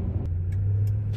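Car driving along the road, a steady low engine rumble and road noise continuing throughout at close range, with no voices.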